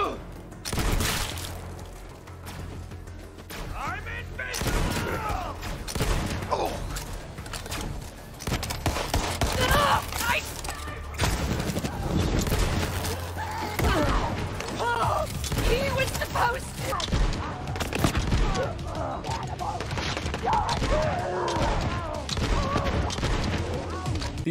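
Legendary weapon fire in Borderlands 3, with rapid repeated shots and booms in a dense, steady barrage mixed with other game sounds and a voice talking over them.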